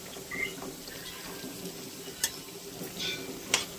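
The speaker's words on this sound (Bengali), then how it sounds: "এবারে গ্যাদাল পাতার বড়া ভেজে নেব।" Gandal leaf fritters fry quietly in hot oil, giving a soft continuous sizzle with a few sharp pops and spatters and faint stirring.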